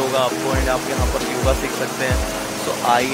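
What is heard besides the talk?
flowing river water in Rishikesh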